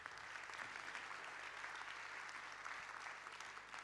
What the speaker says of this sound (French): Je crois qu'on peut applaudir ce beau jury que vous avez derrière moi.